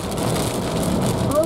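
Heavy rain mixed with hail drums steadily on a car on the A8 motorway near Aichelberg, a dense, close pattering that stays loud across the moment.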